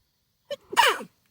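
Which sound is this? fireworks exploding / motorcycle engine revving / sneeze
sneeze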